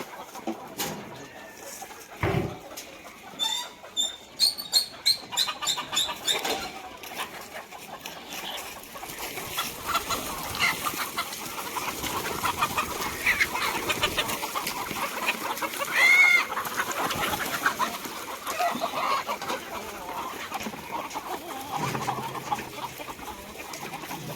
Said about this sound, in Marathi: त्या बाजूचं गेट आहे, इकडून कोंबड्या बाहेर येतात